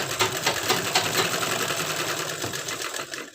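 A sewing machine runs a fast, steady stitch along an embroidered blouse belt, loud and close with an even mechanical rattle and a slight slowdown near the end, with no talking.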